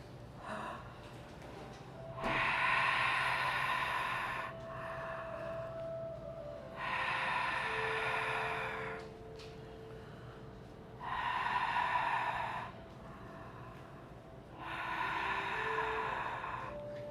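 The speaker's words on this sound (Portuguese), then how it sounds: "a nossa respiração ela vai ser pela boca" Someone breathes slowly and deeply through the mouth during a guided breathing exercise. Four long, airy breaths come at a steady, unhurried rhythm, close and clear, with quiet pauses between them and no speech.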